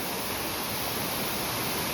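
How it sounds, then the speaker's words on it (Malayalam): Near, continuous rush of a shallow stream in a Vietnamese village, a steady broadband wash of flowing water with no voices. "മനോഹരമായ അധികം വെള്ളമില്ലാത്തൊരു അരുവി"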